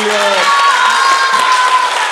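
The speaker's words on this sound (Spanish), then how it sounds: "Otro aplauso para Nilda Chavaglio." Loud, steady audience applause, a continuous close wash of clapping with faint cheering and brief voices mixed in, holding at full strength throughout.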